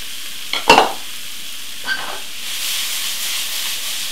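Onions and garlic sizzle softly in a pan, with a couple of brief stirring scrapes early on and a steady low frying hiss that swells slightly toward the end.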